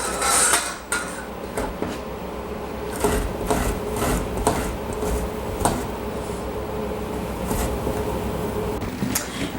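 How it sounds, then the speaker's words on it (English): Fresh ginger rubbed against a grater over a bowl, a steady close scraping rasp broken by repeated strokes and light clinks of metal, alone without talk. "Take the grater, right over the bowl, and grate the ginger"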